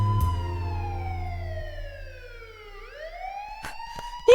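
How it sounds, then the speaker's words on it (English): Police sirens wail, sweeping slowly down and back up in pitch over a low engine rumble, loud and close, ending with a couple of sharp knocks. "That's when the sirens of police cars were heard."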